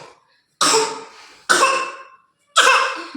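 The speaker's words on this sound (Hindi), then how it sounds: "बहुत खांसी आ रही है, देखो" Three loud, close coughing fits from one person in a quiet room, each a sharp harsh burst trailing off, spaced about a second apart.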